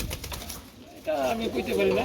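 Pigeons, including a long-face male, coo softly in short throaty bursts nearby at a pigeon sale, with a person talking at the start and background chatter.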